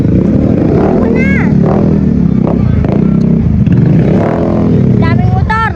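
Many motorcycles pass along a road, a dense, continuous engine roar with revving swells, while people talk and chatter close by throughout.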